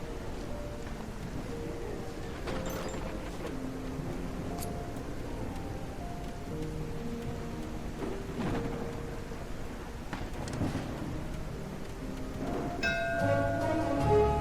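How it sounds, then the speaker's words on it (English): Heavy rain falling steadily in the mouse city-building game Whiskerwood, a constant wash of downpour with occasional low rumbles, over soft tonal game music that grows slightly louder near the end. "Heavy rain day."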